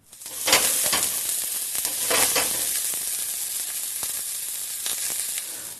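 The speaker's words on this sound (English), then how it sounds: "he loves the sound of onions sauteing in a frying pan" Onions sizzle steadily in a hot frying pan, a loud continuous crackling hiss with occasional sharper pops from stirring, close up and without speech.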